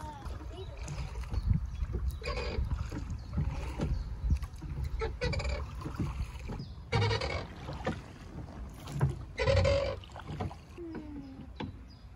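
Oars splash and knock steadily as a small boat moves through water, with voices chattering nearby and occasional bird calls in the background.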